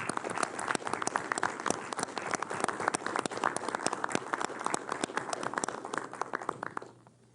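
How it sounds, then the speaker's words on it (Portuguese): Audience applause after a call to honour healthcare workers, dense continuous clapping from a large crowd holding steady for about seven seconds before fading out at the end. "solicitar a todos uma salva de palmas para esse pessoal"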